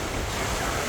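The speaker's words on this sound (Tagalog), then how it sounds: "Hindi ko alam kung pa high tide pa ba to or pa low tide na kasi paano na yung alon" Sea waves wash onto a beach at a Philippine shore near Dumaguete, a steady broadband surf roar with wind noise across the microphone, continuous and fairly loud, with no talk.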